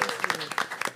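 Applause for parents standing to be recognized at a school board meeting, a brief burst of many hands clapping in a room, fairly close and continuous through the whole second.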